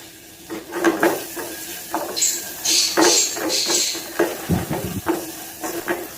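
Crushed dry coriander and spices fry on low heat in a pan for lehsan karahi, a steady soft sizzle broken by repeated clattering scrapes and knocks from a stirring utensil at close range.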